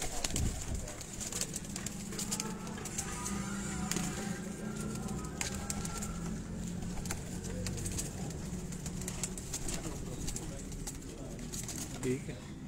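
Pigeons coo on a rooftop loft in Kasur, soft repeated throaty calls running through the whole stretch, with someone talking over them and faint street noise behind.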